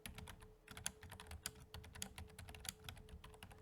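Quiet, quick keystrokes patter on a computer keyboard as a description is typed, a steady near rhythm of light clicks with a faint background hum.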